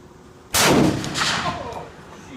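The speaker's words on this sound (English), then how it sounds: "shooting a 50 BMG with a muzzle brake where you can see the environmental disruption that I'm talking about" A single 50 BMG rifle shot fired through a muzzle brake outdoors: one sudden, very loud blast with a long rolling echo that slowly fades.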